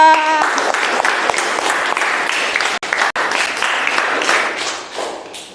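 A classroom group applauds in a steady, dense burst of clapping after a short tone at the start, with two brief gaps before the clapping resumes and swells toward the end.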